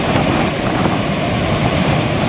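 Water rushes and sprays heavily at Nagarjuna Sagar Dam, a loud, continuous broadband roar mixed with wind buffeting the microphone, with no voices.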